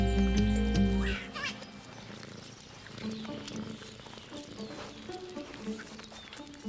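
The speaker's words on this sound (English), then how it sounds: "Banded mongoose." Banded mongooses in the wild in Uganda calling in a group, a chatter of high squeaks and mews over outdoor ambience, after a loud low-pitched sound at the start.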